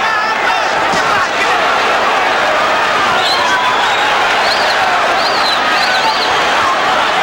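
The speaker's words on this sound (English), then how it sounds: "Good crowd reaction every time Rosario lands a shot on Camacho" Boxing crowd at a Madison Square Garden lightweight fight fills the arena with a steady, dense roar of cheering, applause and whistles, loud and continuous throughout without pause.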